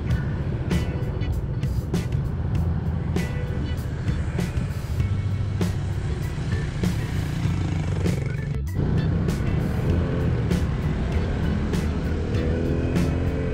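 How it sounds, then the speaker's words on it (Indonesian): Steady rumble of idling and creeping cars, trucks and motorcycles queued at the Wangon crossroads traffic light in Indonesia during the 2025 Lebaran homecoming rush, a dense continuous engine drone with occasional passing swells. "perempatan Wangon juga masih terlihat antrian kendaraan para pemudik"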